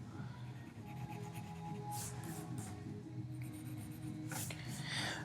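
A pencil shades a one-point perspective room drawing, giving a soft continuous scratching with brief brighter strokes, quiet and close in a calm room.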